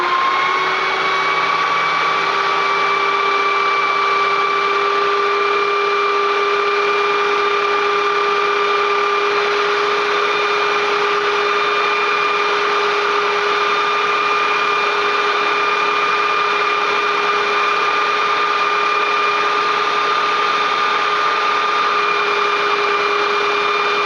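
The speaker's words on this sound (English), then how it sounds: "this particular sander has got a lock button on it, so I can start it up" A power sander grinds steadily against a knife blade, a loud, continuous whine with a constant pitch held for the whole stretch, with no talk over it.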